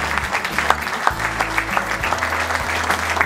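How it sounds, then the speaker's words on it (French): Guests applauding at a mayor's vin d'honneur reception in Le Gosier, Guadeloupe: steady, loud clapping from a gathered crowd, with a low tonal background running underneath throughout. "j'aimerais vraiment qu'on applaudisse la mémoire vivante de la Guadeloupe"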